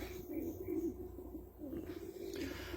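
Several Istanbul white pigeons coo softly and close by, low throaty rolling calls repeating in short bursts over a faint background hum.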